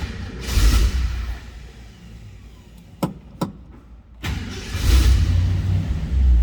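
A 1969 Ford Mustang Mach 1 R-Code V8 cranks and fires from cold, its engine roaring loudly in two surging bursts with a brief lull and sharp clicks between them, then settles into a rough, rumbling idle.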